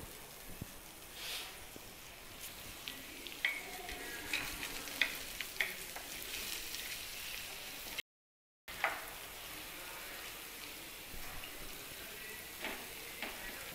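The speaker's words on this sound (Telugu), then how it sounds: "ఇప్పుడు నేను ఆవాలు వేస్తున్నాను. అలాగే కొంచెం కరివేపాకు," Mustard seeds and curry leaves sizzle in hot ghee for curd rice tempering, a soft steady frying hiss with scattered light pops and crackles, close but quiet, with a brief dropout partway through.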